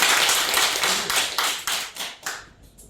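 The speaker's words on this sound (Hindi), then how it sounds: "इस महान कंपनी का फाउंडर शेयरदाता डॉक्टर लिन शेयर जी के लिए प्लीज एक जोरदार ताली" Audience at a company gathering claps in unison for the founder, a run of strong rhythmic claps about every quarter second that thins out and fades at the end.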